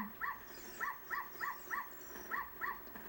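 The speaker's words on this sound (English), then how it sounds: "My little doggy. My little pupper." A small dog gives a run of quick, faint yips or whimpers, about seven short calls in an uneven rhythm over quiet background.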